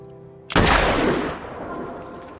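A gunshot during shooting practice in a film bursts out suddenly and loudly, then rolls into a long, booming reverberant tail that slowly fades.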